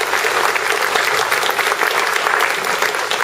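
Audience at a book presentation clapping together in a dense, steady burst of applause for a professor, loud and close, with no speech over it.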